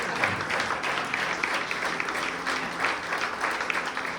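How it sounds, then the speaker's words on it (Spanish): A church congregation applauds during a Spanish-language service, a steady wash of many hands clapping at moderate volume for the whole stretch with no speech. "denle el mejor de los aplausos al que vive y al que reina"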